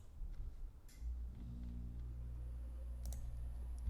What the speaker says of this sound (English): just click this run button.